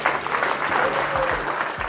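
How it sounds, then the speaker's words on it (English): An audience at a fencing foundation event bursts into loud, sustained applause, many hands clapping densely together for a couple of seconds while a speaker's voice carries faintly beneath. "So give her a round of applause."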